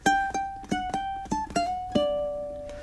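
Ukulele plays a melodic blues phrase of about six plucked notes in a bouncy rhythm, the last note left ringing; close, clean and unaccompanied.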